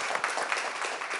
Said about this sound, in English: I want to hear a round of applause for you guys too